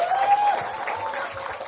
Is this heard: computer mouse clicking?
no